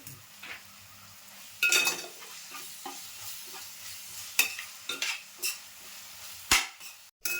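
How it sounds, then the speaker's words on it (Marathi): Ginger garlic paste, freshly made, sautéed and stirred in a pan for a chicken masala, with scraping stirs and a few louder clanks of the spoon against the pan over a quiet sizzle, no talk. "आता मी आलं लसूण पेस्ट टाकते. ती पण मी फ्रेश बनवून घेतली, ती 1 चमचा भरून टाकते. ती पण छान अशी परतून घ्यायची."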